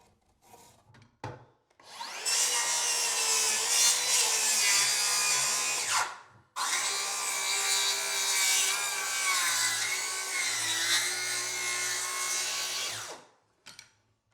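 A power saw cutting through a wooden roof rafter for a gable roof, two long loud continuous buzzing cuts of several seconds each, separated by a brief pause, with some handling knocks before and after.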